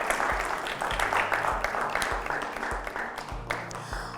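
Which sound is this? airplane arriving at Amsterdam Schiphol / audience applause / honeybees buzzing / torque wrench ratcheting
audience applause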